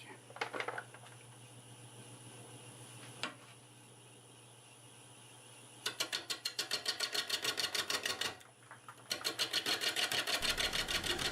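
Wood lathe at about 413 RPM turning an apple wood bowl with a 5/8 bowl gouge, a steady motor hum with bursts of rapid rhythmic chattering as the bouncy gouge cuts intermittently.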